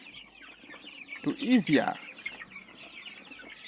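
Chickens on a farm clucking as they eat black soldier fly larvae, a burst of close, loud clucks in the middle over quieter scattered hen noises and a faint voice.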